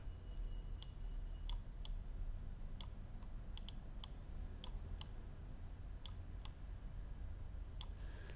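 Computer keyboard keys click in sparse, quick taps, several in pairs like shortcut presses, faint and close over a steady low hum of room noise.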